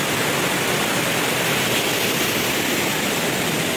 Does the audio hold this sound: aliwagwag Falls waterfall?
yes